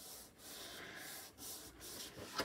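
A folded paper hand-cream box is burnished by hand, firm rubbing strokes in short repeated passes with brief pauses between them, close and fairly quiet.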